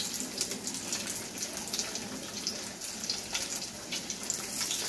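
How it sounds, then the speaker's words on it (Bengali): Fish fry pieces sizzle in a hot pan, a continuous bright crackling hiss with scattered pops, moderately close and fairly soft. "আর আমি এই ফিশ ফ্রাইগুলো ভেজে নিচ্ছি"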